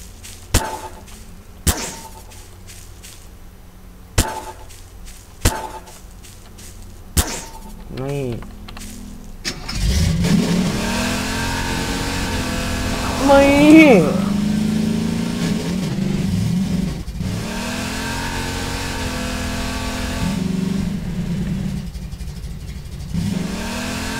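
A car engine in Garry's Mod revs and strains at a steady high pitch for over ten seconds, rising and falling as it accelerates, after a run of sharp clicks and short tones.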